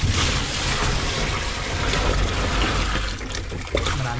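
Lots of water pours and splashes steadily during cleaning, a loud continuous rushing wash close by with no talk over it.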